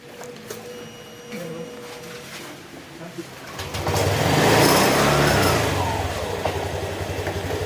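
A Honda motorcycle engine starts up partway through and keeps running with a loud, steady rumble, after quieter background noise.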